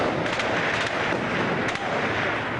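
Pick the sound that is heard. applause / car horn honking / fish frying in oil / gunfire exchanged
gunfire exchanged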